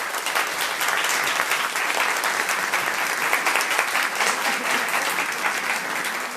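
Sustained, dense applause fills a conference hall in Mexico City as a Tecnológico de Monterrey professor is welcomed. The clapping stays loud and even from start to finish, with no voices over it.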